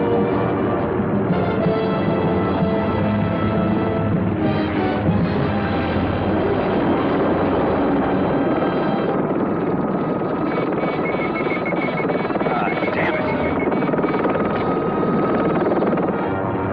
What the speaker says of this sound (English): Great stunt flying here.